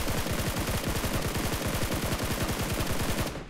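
Rapid sustained DP machine gun fire in a mobile shooter game, a loud continuous stream of closely spaced shots lasting a few seconds before cutting off.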